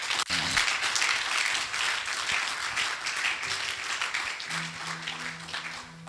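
A church congregation applauds in a steady, dense wash of clapping that fills the room, with faint voices underneath and a brief sustained tone near the end.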